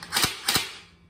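Two sharp snapping shots from an airsoft AR-style BB gun, close and fairly loud, spaced about a third of a second apart, with no talking.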